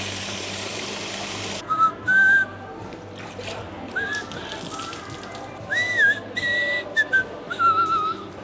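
A person whistles a wandering tune in several short phrases over a steady background hum while brewing a sour beer, the whistles fairly close and clear.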